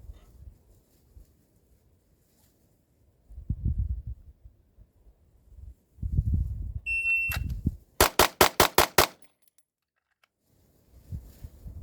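A Staccato HD pistol fired during a USPSA classifier stage: a shot-timer beep, then a quick string of about six sharp, loud shots in steady rhythm. Talk comes before and after the string.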